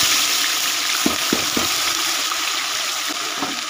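Hot ghee hisses steadily in a pan, a constant bright sizzle with a few soft knocks of a utensil against the metal.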